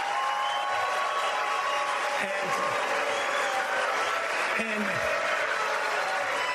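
Audience at a Republican presidential debate, a dense sustained crowd roar of booing and noise filling the hall, steady and loud throughout, with a voice briefly heard.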